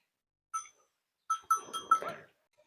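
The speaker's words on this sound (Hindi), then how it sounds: "और अब हम आए हैं गाय बकरी लेने के लिए" Goats and cows being untied, with a few short bright bell-like clinks followed by a small cluster of rattling jingles and a brief rustle, close and quiet, with no talk.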